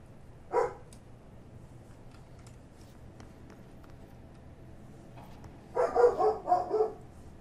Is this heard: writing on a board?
no